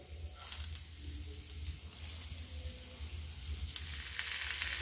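Whole tomatoes sizzle in hot spiced masala in a pan, a soft continuous frying hiss with light crackles and a low steady hum underneath, ending with a small clink.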